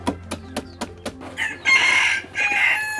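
Several rhythmic clucks from chickens, then a loud rooster crow rising twice, close by and clear.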